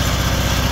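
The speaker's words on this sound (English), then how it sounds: "Been riding this lawnmower around to get up." A riding lawn mower engine runs steadily, close and loud, with a fast even putter and no voices.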